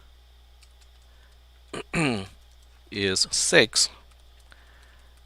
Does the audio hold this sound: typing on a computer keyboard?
yes